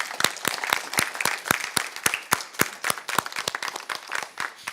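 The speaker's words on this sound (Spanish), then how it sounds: "¿Y el aplauso? Vamos a hacerlo de nuevo porque quiero que se sienta" A church congregation claps in a brisk, fairly regular rhythm of sharp hand claps that carries on steadily for several seconds, close and clear, with no talking over it.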